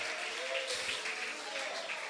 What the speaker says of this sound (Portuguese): Adore enquanto você aplaude, glorifique enquanto você aplaude a Ele.